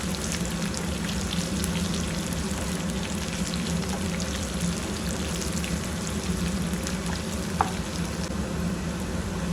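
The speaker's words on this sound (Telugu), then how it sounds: "ఇట్లా కాకరకాయలు ఆల్మోస్ట్ అవి కూడా ఫ్రై అవుతున్నాయి" Bitter gourds and green chillies fry in oil in a pan, making a steady, close, dense sizzle with occasional small pops, continuous throughout with no voices.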